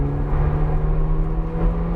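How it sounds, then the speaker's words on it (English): Inside a 2019 Hyundai Veloster on a race track, a steady, loud drone of engine and tire roar holds without break, with no talking. "Veloster sounds pretty quiet. Tires are making more noise."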